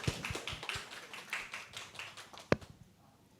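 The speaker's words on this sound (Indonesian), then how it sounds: "Boleh tepuk tangan dulu dong." A small audience gives faint, scattered clapping, a handful of soft, uneven claps spaced out over a few seconds with one sharper clap before trailing off into quiet.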